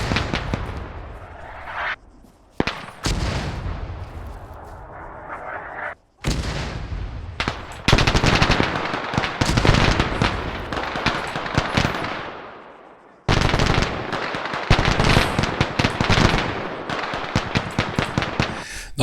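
Incoming artillery explosions and gunfire in the ARMA 3 video game, set in a WW2 Pacific Solomon Islands battle: loud repeated booming blasts and rattling bursts of shots, close and intense, broken by a few brief silent gaps.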